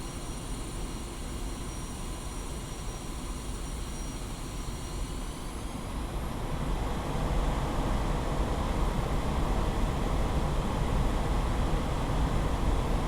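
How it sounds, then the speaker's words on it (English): Twin jet engines spool up to maximum takeoff thrust in the DCS World combat flight simulator, a steady broadband roar that swells louder partway through and holds, with no voices. "increase thrust of both engines to maximum"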